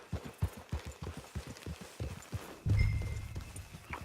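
A horse's hooves in Red Dead Redemption 2 Online clop in a quick, even rhythm on firm ground, then give way to a louder, rumbling burst near the end.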